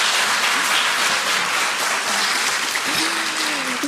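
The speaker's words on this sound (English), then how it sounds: "let's give Dr. Nestle one other round of applause" Loud, sustained audience applause after a conversation event on food and soda politics, a dense wash of clapping with a brief voice heard faintly beneath.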